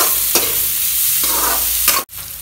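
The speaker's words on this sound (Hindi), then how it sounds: "अब इसको 5 से 10 मिनट हम लोग इसमें फ्राई करेंगे।" Garlic, onion, chillies and green spices frying in a pan over medium heat, a loud close sizzle broken by a few spatula scrapes and a sudden brief drop near the end.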